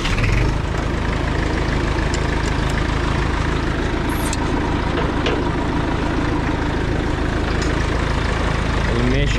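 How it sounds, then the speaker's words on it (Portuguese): A tractor engine idles at close range with a steady low rumble, accompanied by a scrape blade on a farm beside ponds, and a voice is faintly present. "Vamos engatar o scrape do trator."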